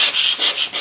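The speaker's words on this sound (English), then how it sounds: "this is a little carbide scraper" Small carbide scraper dragged across a concrete floor to lift mastic staining, giving a few quick, loud, close rasping strokes in a rapid rhythm.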